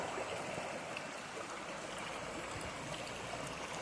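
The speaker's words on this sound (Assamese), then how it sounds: "আৰু এইফালে চাব, য'ৰ পৰা জুৰিটো বৈ আহিছে, তাত আৰু বেছি শব্দ হৈ আছে" A mountain stream flows steadily, a dense, continuous rushing and bubbling of water close by, with no voices.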